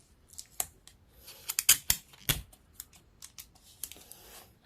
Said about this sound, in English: We're gonna scotch tape this down.